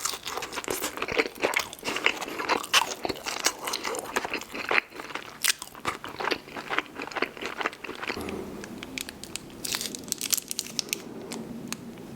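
Someone eats In-N-Out animal style fries close up, with wet crunching and chewing in quick, irregular bites that soften toward the end, and no talking.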